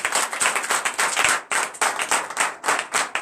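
A church congregation claps in a Sunday worship service, loud, rhythmic unison clapping in quick regular beats with a few brief pauses between bursts.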